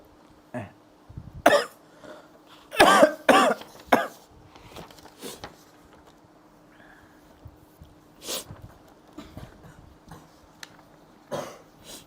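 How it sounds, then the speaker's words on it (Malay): Several harsh coughs come in bursts, a cluster of two or three together, then scattered single coughs with quiet gaps between. "Batuk ni."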